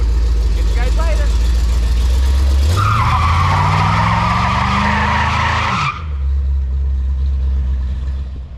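A 1950s Chevy truck lays down a burnout: the engine roars loud and close, rising in a long rev while the tires shriek in a sustained squeal for about three seconds, then the revs drop and the engine keeps rumbling.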